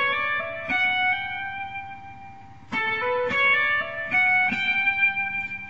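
An acoustic guitar plays a slow single-note run up the neck from Pachelbel's Canon, plucked notes stepping upward one by one with a short pause midway, ringing clearly and close.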